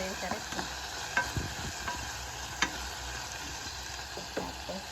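Pork and tomatoes sauté in a pan, with a constant low sizzle broken by several clinks and scrapes of a utensil stirring, close by and with no talk.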